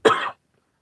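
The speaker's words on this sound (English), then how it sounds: "Now this the devil trying to make me cough in the middle of this." A single short, sharp cough from a man, close and fairly loud, cut off quickly and followed by silence.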